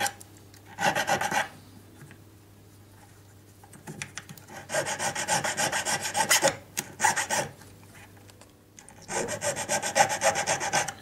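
Hand file rasping on metal claws of a crown ring setting, in several bursts of quick back-and-forth strokes separated by short pauses, close and fairly quiet with no talk.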